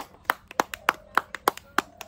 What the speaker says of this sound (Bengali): হাততালি দাও হাততালি হাততালি হাততালি